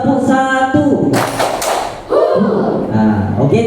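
In a primary school classroom, a class of children claps in unison on a one-clap cue, giving a loud broadband burst of clapping in the middle, with spoken voices before and after.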